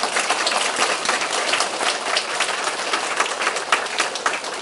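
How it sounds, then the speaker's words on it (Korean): A church congregation claps together at a Won Buddhist temple anniversary service, a dense, steady wash of applause from many hands filling the room without a break and with no voices on top. "그리고 다시 박수 한 번 더 쳐야 되겠습니다"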